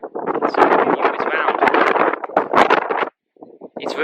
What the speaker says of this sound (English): it's really windy, so you won't be able to hear me